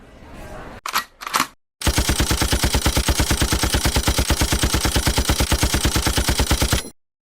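Gunfire from a prison scene in The Walking Dead season 3: a few scattered shots, then a long, loud, evenly paced burst of rapid automatic fire that stops abruptly.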